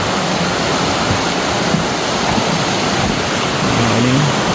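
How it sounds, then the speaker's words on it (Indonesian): A river stream flows steadily along a trail near a village, a loud, constant broadband rush of water with no break, heard up close. "ini dari aliran sungai dan kalinya"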